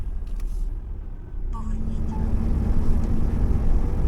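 A truck rolls along an English road in the dark early morning, heading to an unloading stop, its steady engine drone and road rumble building slightly with a brief tonal whine partway through.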